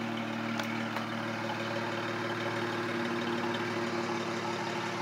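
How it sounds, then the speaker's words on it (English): A 2014 Dodge Charger with a 3.6 V6 and Flowmaster exhaust idles steadily, a close, even low rumble with a raspy edge that holds unchanged throughout, with no talking. "Sounds pretty good for a V6."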